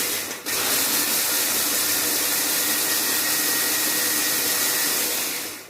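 A loud, steady motorized whir runs for several seconds without pause, a close mechanical grinding hum as a food processor chops 50 grams of semolina at full speed.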